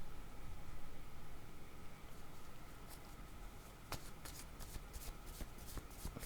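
A deck of oracle cards shuffled by hand, a continuous soft riffling and patter that breaks into sharper card snaps in the last seconds, faint and close under a steady background hiss.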